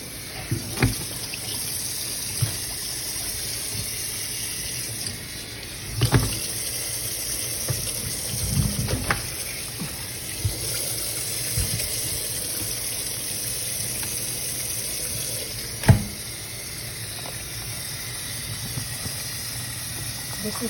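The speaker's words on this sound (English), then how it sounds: "So I like to take my turkey and just kind of rinse it." Tap water runs into a kitchen sink as a whole turkey is rinsed: a soft, steady stream of splashing punctuated by occasional knocks and clunks of handling, all fairly faint.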